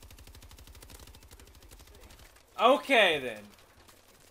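Rapid automatic gunfire rattles in Call of Duty: Advanced Warfare, a fast even stream of shots for about two seconds that stops before someone speaks briefly.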